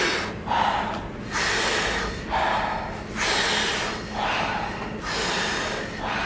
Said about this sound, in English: taking about 40 powerful breaths into the body through a round mouth